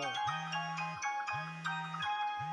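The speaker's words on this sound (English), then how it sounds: "Oh, different ringtone." Newfangled mail gadget ringtone in Paper Mario: The Thousand-Year Door on Switch, a bright repeating electronic chime over a low sustained tone, sounding three times in a steady loop, clear and with no talking.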